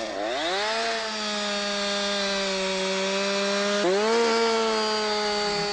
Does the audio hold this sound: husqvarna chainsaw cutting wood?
yes